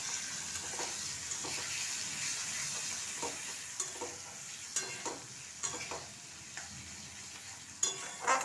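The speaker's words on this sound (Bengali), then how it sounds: "মশলাটা খুব ভালোভাবে কষিয়ে নেব" Chilli, coriander and turmeric powders sizzle in hot oil for a prawn curry, a continuous close fry with irregular scraping stirs that grow sharper toward the end.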